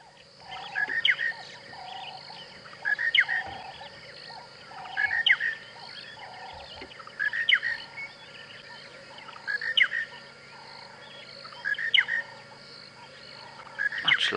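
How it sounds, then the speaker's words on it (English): Dawn chorus on a safari drive in Tingana: monotonous larks, laughing doves, Cape turtle doves and sparrows, with an odd francolin. One bright call repeats about every two seconds over a soft steady hum of other birds. "Much louder dawn chorus than we had the other day. Monotonous larks, laughing doves, Cape turtle doves, sparrows, the odd francolin"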